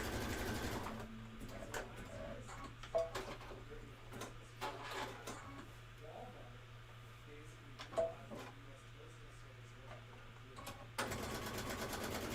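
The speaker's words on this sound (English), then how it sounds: "I'll just do one more row of stitching." A sewing machine stitches a row along a quilt border, its fast rhythmic needle hum running nearly continuously up close, pausing briefly and restarting.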